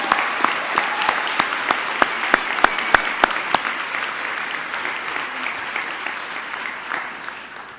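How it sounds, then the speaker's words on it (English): Graduates at a Drexel hospitality and management commencement get a sustained round of crowd applause, dense clapping with a few sharper near claps early on that gradually thins and fades. "One more round of applause for all our graduates today."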